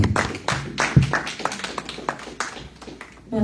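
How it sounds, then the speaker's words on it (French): Applause for someone speaker at a community gathering, with distinct individual claps in an uneven rhythm from a small nearby group, moderately loud and thinning toward the end. "On va applaudir la sœur"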